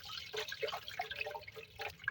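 Water draining from soaked rice in a home kitchen while making pulao, a soft irregular trickle and dripping with small splashes, close and fairly quiet, with no talking.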